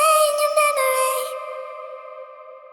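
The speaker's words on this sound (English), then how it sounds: "you can hear that long delay that will go throughout quite a bit of the main loop playing" A flute melody from a drum and bass loop, drenched in long delay and reverb, with a few breathy notes whose echoes ring on and slowly fade out alone.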